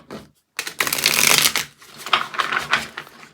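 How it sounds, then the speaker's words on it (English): A deck of playing cards is riffle-shuffled up close: a short pause, then a dense burst of rapid flicking, followed by a few quieter riffles and taps. "I'm gonna shuffle one more time"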